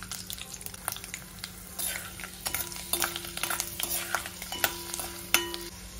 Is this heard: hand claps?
no